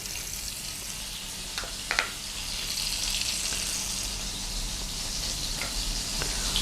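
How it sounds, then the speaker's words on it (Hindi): Butter sizzles in a hot pan for garlic butter chicken, a continuous bright hiss close by, with a couple of faint clinks partway through and no speech. "इसमें हम डाल देंगे मक्खन।"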